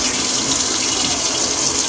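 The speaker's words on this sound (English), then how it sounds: "Fill it up with water again and put the anchovies back in there." Tap water runs steadily into a bowl in a home kitchen, filling it to rinse salted anchovies; a loud, continuous close gush with no talk.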